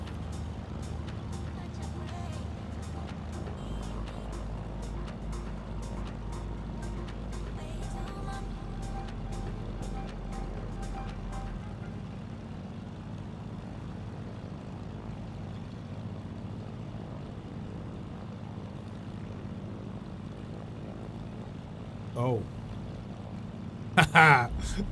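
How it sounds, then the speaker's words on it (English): A propeller aircraft taxis at a Scottish airfield in Microsoft Flight Simulator, its engine droning steadily at moderate loudness for the full stretch, with talk over it and a brief sharp rattle near the end. "We'll taxi past the MiG."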